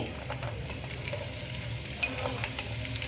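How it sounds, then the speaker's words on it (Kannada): Three medium onions, thinly sliced lengthwise, frying in hot oil with a steady close sizzle and occasional stirring scrapes, plus one brief clink of a utensil. "ಇದು ಪೂರ್ತಿ ಬ್ರೌನ್ ಆಗೋ ತನಕನೂ ಹುರಿಬೇಕು ನಾವು ಎಣ್ಣೆ ಒಳಗೆ"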